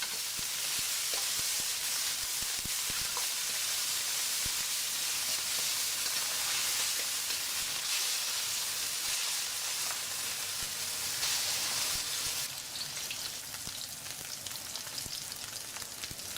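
Onions fry with onion, garlic and ginger pastes in hot oil for a beef dish, giving a constant loud sizzle, with occasional scrapes and clatters of stirring and a brief change in tone near the end.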